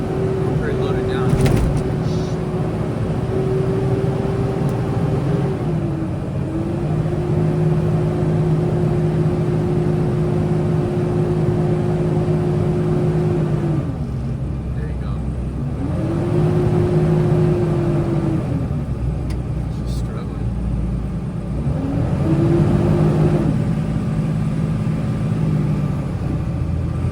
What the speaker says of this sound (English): The truck's struggling right now getting up this hill.